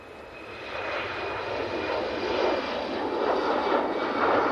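An airliner rolls down the runway for takeoff at Manchester Airport, a broad, distant engine roar that swells steadily louder throughout, with no talking.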